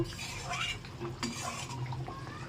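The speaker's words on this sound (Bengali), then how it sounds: "এবার সব কিছুকে আরেকবার ভালোভাবে মিশিয়ে নেব" A fish curry is stirred in a pan with continuous soft scraping and liquid sloshing close up, punctuated by light utensil clinks.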